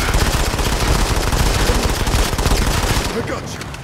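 Dense, continuous automatic gunfire rattles loudly and without pause in a Modern Combat 5 battle, volleys overlapping into a sustained roar before tapering off at the end.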